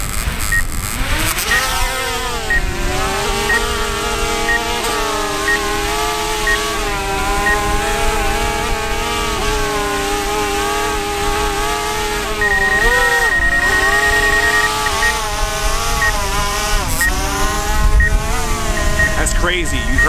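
A DJI Mavic Air drone with sand inside runs continuously, its rotors giving a loud, harsh buzzing whine that wavers in pitch and surges and dips throughout, heard up close.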